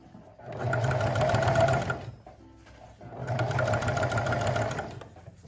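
A sewing machine runs slowly, stitching a visible topstitched seam on a mini dress bodice: two sustained bursts of rapid mechanical whirring, separated by a short quiet pause, loud and close.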